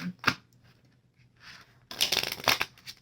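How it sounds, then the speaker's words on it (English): Quick riffling bursts of a tarot deck being shuffled, a short flick first, then a louder, longer shuffle at close range. "so we will do one more shuffle"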